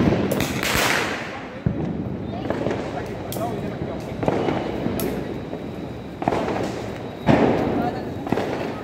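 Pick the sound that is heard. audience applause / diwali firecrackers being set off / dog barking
diwali firecrackers being set off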